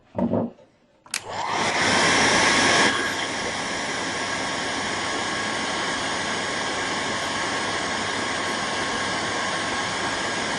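A hair dryer blows steadily to dry paint on a gongbi-style Buddhist figure painting, starting with a brief click and surge, then holding a loud, even whoosh close by with no talk.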